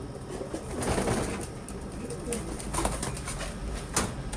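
Pearl eye pigeons coo softly at close range and flap their wings in short bursts, the low murmuring calls repeating steadily with no talking over them.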